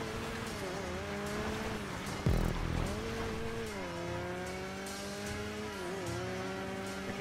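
A Redwood Sparks RX rallycross car in a WRX racing game drives steadily, its engine note rising and falling through gear changes, with a brief louder burst of tire noise or impact partway through.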